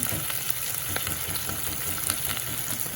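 Steady sizzling of onions frying in a hot pan with light scraping and stirring clicks throughout, no voices.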